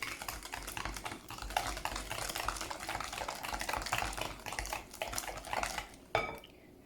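Hand-mixing cake batter with oil in a bowl, a quick rapid run of clinking, scraping utensil strokes against the bowl, close and busy, ending with a sharper knock.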